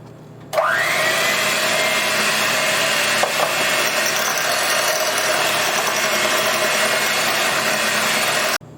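Eggs being beaten for cake barfi give a loud, steady mechanical whirring that starts abruptly and runs unbroken for several seconds before cutting off, with no talking.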